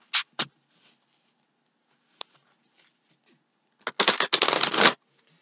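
Tarot cards are shuffled by hand in a few quick riffles: two brief crisp bursts, a lone tap, then a longer, louder run of rapid fluttering card noise near the end.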